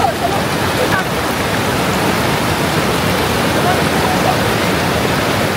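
Clean river flowing below a bridge in Jibhi during the monsoon, a loud, steady broadband rush of water that stays constant throughout with no other clear sounds.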